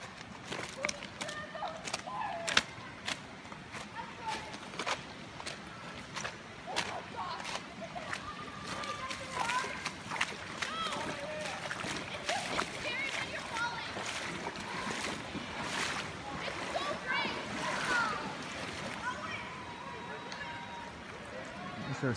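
Someone jumps into a river, and the water splashes and sloshes among busy outdoor noise, with voices in the background and repeated sharp bursts throughout.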